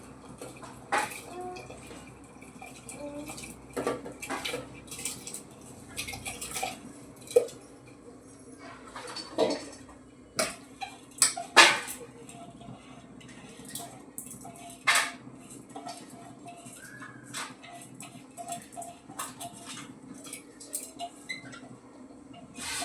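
Cooking ingredients are rinsed in a home kitchen, with scattered clinks of utensils and dishes, splashes and drips of water, and intermittent soft talk in between.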